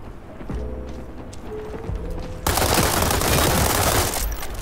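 Rapid automatic hip fire from an M416 sniper rifle in the WW3 video game, a loud sustained burst of dense shots that cuts in halfway after quieter clicks and footsteps.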